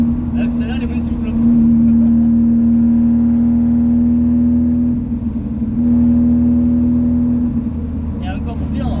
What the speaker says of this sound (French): on l'entend, vous voyez, le carbu, il est malade